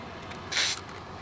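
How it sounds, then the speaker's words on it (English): A single short burst of aerosol spray into an RV panel, a sharp hiss lasting about a quarter second, close by against a quiet background. "we're gonna spray the stuff in here"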